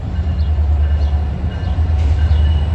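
A MARC commuter train rolls past, a loud steady low rumble of the locomotive and cars with faint wheel squeals, continuous over the whole stretch with no talk.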